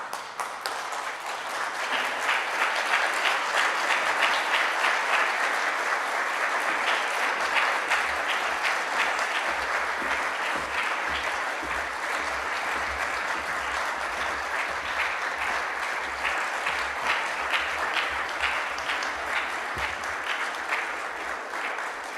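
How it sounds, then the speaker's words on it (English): Graduation ceremony audience at the University of Liverpool applauding steadily, a large hall full of dense, sustained clapping that holds loud and even for the whole stretch. "can I please ask you all to stand and give a round of applause for your senior officers of the University of"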